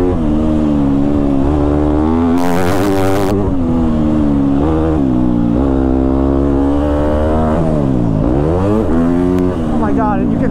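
A Yamaha YZ250F four-stroke dirt bike engine revs hard while riding a track, loud and close, rising and falling through repeated throttle blips and gear changes with a brief wind buffet.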